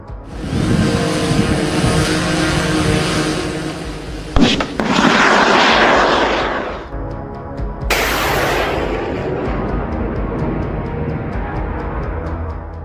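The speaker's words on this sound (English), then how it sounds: "Footage shared on social media has shown a Ukrainian serviceman firing an FGM-148 Javelin missile from a sheltered balcony towards a Russian outpost" Javelin FGM-148 missile fired by a Ukrainian serviceman from a sheltered balcony at a Russian outpost: loud continuous roaring rush with a sharp burst near the middle and another blast later, trailing into sustained outdoor noise.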